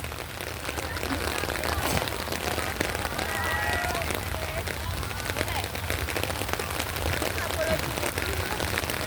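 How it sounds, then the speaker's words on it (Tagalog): Rain falls steadily on surfaces outdoors near a riverbank or lake, a dense even patter that runs throughout, loud and close, with voices heard faintly now and then. "Ulan-ulan."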